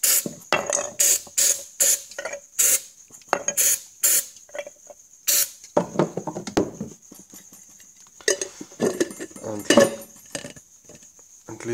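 Carburetor cleaner sprayed into a jar holding a 3D-printed PLA part, a string of short hissing bursts in quick rhythm, then clinks and rattles of the jar and part, close and moderately loud.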